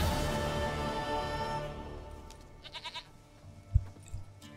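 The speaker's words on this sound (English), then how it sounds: "Goat of mine, dearest, sweetest goat." A goat in The Witcher 3 lets out a few short, wavering bleats, fairly faint, over soft sustained game music.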